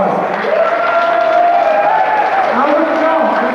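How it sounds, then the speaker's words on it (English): Audience applause and cheering for dancers at a live event, loud and sustained throughout, with a voice talking over the clapping. "dancers one big round of applause."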